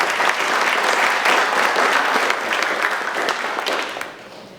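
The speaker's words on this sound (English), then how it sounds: "let's give them another round of applause" Lecture audience gives a round of applause, dense and steady clapping that stays even for several seconds and then tapers off.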